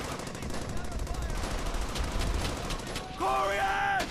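Machine gun fire in Brothers in Arms: Hell's Highway crackles in dense, sustained bursts amid battle noise, followed near the end by a tonal game sound, with a voice talking over parts of it.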